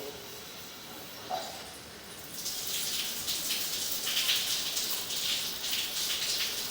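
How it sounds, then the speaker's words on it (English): A shower starts after a quiet moment, then water runs steadily with a bright, continuous hiss and splash close by. "So I'm going to run some water"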